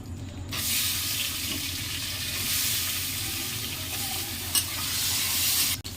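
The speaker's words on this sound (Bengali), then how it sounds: "পটলগুলো তুলে আলুগুলো ভেজে নেব" Potato pieces fry in a pan of hot oil, a steady dense sizzle running throughout with occasional stirring scrapes, close and fairly loud with no voices.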